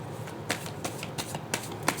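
Tarot cards being shuffled and drawn, a series of crisp, close riffling flicks and slaps in an irregular rhythm, with no talking.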